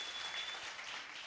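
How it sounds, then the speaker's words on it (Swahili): An audience at a savings cooperative's annual general meeting claps in a dense, even burst of applause that fills the whole short moment. "Tupigie makofi kwanza."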